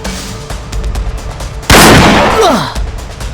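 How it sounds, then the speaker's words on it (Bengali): Bomb explosion sound effect played from a phone, preceded by scattered gunfire pops, then one sudden loud blast that rumbles and slowly fades over a couple of seconds. "তখনই আমি আমার ফোনে বোমে সাউন্ড অ্যাড করে দিয়েছিলাম"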